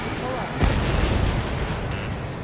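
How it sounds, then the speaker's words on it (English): A missile launch in the jet combat game Ace Combat 7: Skies Unknown, a sudden loud burst and whoosh rising out of a constant roar of engine noise and combat, with speech mixed in. "Strutter 1, missile launched."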